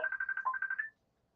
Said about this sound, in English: Somebody's phone's ringing.